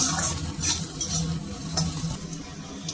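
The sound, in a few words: green chilli and ginger stirred in hot oil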